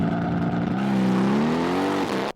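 Mercedes-AMG GLC 63 S twin-turbo V8 compact SUV launching hard under launch control, one loud, steady rising engine roar held close up and cut off abruptly at the end.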